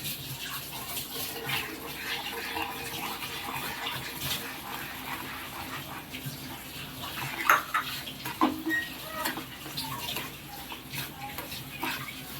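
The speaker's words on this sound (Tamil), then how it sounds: "இந்த சுகரை இப்போ நல்லா இந்த நெய்யோடு சேர்த்து நல்லா கேரமலைஸ் ஆக்க போகிறோம்." Sugar being stirred into melted ghee in a pan to caramelize for sohan halwa, soft scraping and clinking of a utensil against metal, fairly quiet and steady with a few louder knocks.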